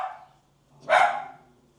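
Two pet dogs sit nearby, and one gives a single short, muffled bark, preceded by a faint yelp, against an otherwise quiet room.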